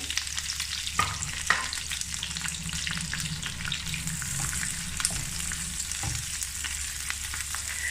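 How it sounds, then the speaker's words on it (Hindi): Capsicum and onion fry in a little oil in a pan with a steady sizzle, punctuated by scraping and tapping from stirring, and no talking. "उसमें मैंने थोड़ा सा ऑयल डाल दिया, और अब इसमें हम डाल देंगे शिमला मिर्च और प्याज, और इन दोनों चीज़ों को करेंगे हल्का हल्का सा फ्राई।"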